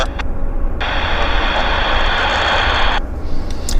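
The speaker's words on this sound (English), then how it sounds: "We can follow this aircraft for the punch through." An airliner departs on a wet runway; a loud jet roar with broad hissing spray swells in after a moment, holds strongly for a couple of seconds, then cuts back to a lower distant rumble.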